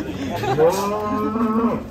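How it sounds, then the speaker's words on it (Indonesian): A cow moos twice in long, loud, close calls on a road, with faint background chatter between the lows. "Sapi bertopeng datang, guys."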